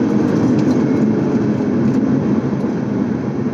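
A car's exhaust note as it pulls away hard, revving to around 6,000 rpm, a steady loud engine drone heard close up with no talking over it.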